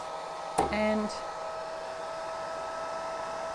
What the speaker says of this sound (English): So excuse the noise while we just get this dryer going.